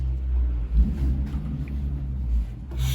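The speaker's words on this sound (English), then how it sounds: "It's a noisy car," A noisy car with a loud exhaust rumbles past, a deep low drone that swells and fades over a few seconds, heard from indoors at moderate distance.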